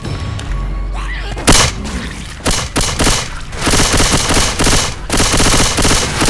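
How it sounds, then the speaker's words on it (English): Loud rapid automatic gunfire in Left 4 Dead 2, bursts of shots with heavy thumps and booms, fairly close and dense, pausing briefly before resuming in sustained volleys. "I'm just barely shooting because of lasers"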